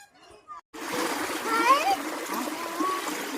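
Cold spring water tumbling down from high in the hills at a hillside trekking spot, a steady near splashing stream that starts abruptly after a brief quiet moment, with faint children's voices in the background.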